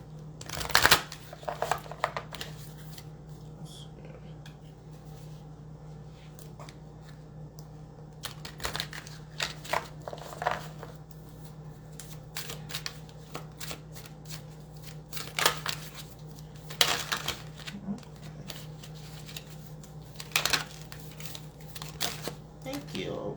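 Tarot cards being shuffled by hand, giving repeated soft riffling bursts and flutters between quieter stretches over a low steady hum, with a voice speaking faintly at times.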